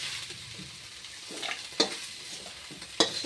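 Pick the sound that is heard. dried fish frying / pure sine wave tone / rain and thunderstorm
dried fish frying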